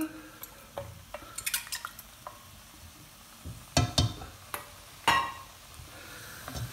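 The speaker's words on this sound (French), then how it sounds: "Et on mélange bien." Tomato pulp being stirred into octopus sauce in a pan: a spoon scrapes and knocks against the pan in scattered, irregular strokes, with a few sharper clinks and a faint sizzle, fairly quiet overall.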